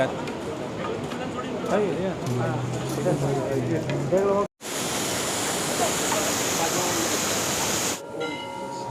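The Mandakini river rushes near Gaurikund on the Kedarnath pilgrimage route, a loud, steady roar of flowing water. Voices talk over it at first, then the water carries on alone.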